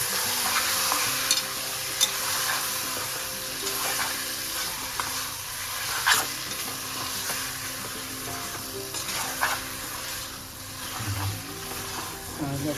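Mutton frying in ghee inside a pressure cooker gives a continuous crackling sizzle broken by occasional spatula scrapes and clicks, with a faint voice at times in the background.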